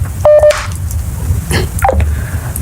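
Telephone dialing tones, a short run of keypad beeps on a phone being called back after a dropped connection, sound loud and close against quiet background noise.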